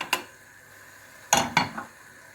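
Tomatoes go into a pan of onions with a few sharp metal clinks and clatters of cookware: one knock, a pause, then two close hits and a softer rattle.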